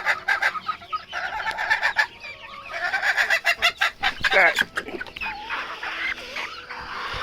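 Young blue Cochin chickens, including a rooster, cluck and squawk nearby in a busy, uneven chorus of repeated calls, with a few sharper excited bursts in the middle.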